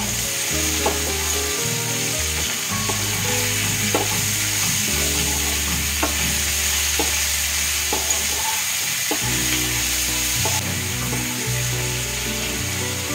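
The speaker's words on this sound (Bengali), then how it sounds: "একটু পেঁয়াজটা ভাজা হোক" Chopped onions sizzle steadily in a pan with a little salt, a continuous loud frying hiss broken by scraping stirring strokes and clinks, with no voices.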